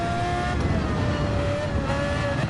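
An old race car in Gran Turismo 7 drones on a steady, close engine note that holds a sustained revving pitch throughout, with a faint tire hiss beneath and no talking.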